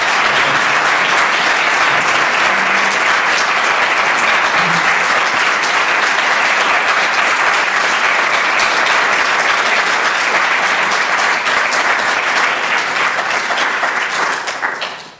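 Long, loud, unbroken applause from an audience in Reykjavik honoring Iceland's former president Vigdís Finnbogadóttir at a women's empowerment prize launch, a dense even roar of clapping that fades only at the very end.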